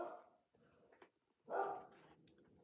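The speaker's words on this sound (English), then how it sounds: "Sorry for my dog barking." A dog barks a couple of times nearby, short sharp yaps separated by brief pauses, with a louder bark in the middle.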